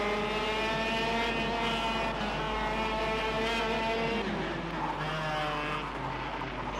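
A go-kart in the VR racing game KartKraft buzzes with a high, steady engine drone as the kart steps out and slides through corners. The pitch shifts slightly with each slide, loud and continuous with no talk.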